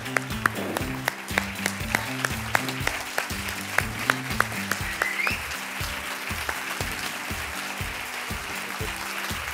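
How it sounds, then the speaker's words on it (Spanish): Audience applause in a Bilbao hall for Marcus de Maria, steady clapping mixed with rhythmic music beats, fairly loud and continuous throughout. "Un fuerte aplauso para... de pie, Marcus Di María."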